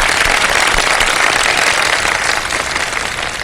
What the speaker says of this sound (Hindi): तीनों के लिए बहुत सारी तालियां